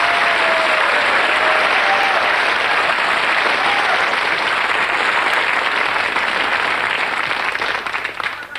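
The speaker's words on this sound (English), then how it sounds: "What we want is woofing applause here." A theatre audience at a magic show applauds a conjuring trick with loud, sustained, dense clapping that fades slightly at the very end.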